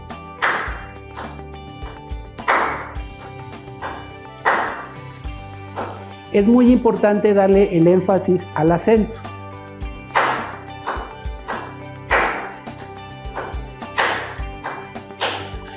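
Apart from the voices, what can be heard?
hand clapping the rhythm of a word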